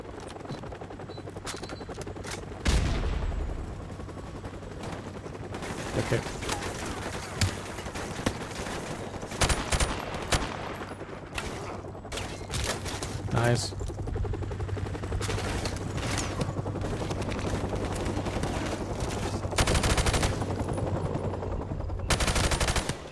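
An enemy gunner in Call of Duty 4: Modern Warfare fires long rattling machine-gun bursts, mixed with scattered single gunshots and heavy impacts, continuing steadily through a tense battlefield scene; fairly distant and sustained, with no talk.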